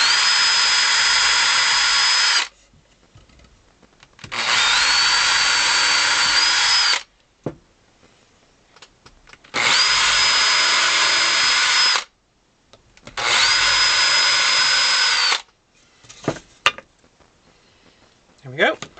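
Four loud, steady bursts of a small power drill, each about two to three seconds long with short pauses between, boring tiny screw holes during an accordion restoration of a Silvio Soprani 48 bass instrument; no talking.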